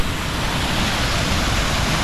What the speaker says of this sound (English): there's the waterfall behind,